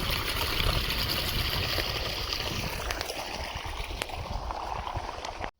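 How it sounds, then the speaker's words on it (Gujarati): Irrigation water runs into a cumin field, a close, continuous rushing and gurgling flow that holds steady before cutting off abruptly at the end. "જીરામાં પાણી આજ ચાલુ કર્યું"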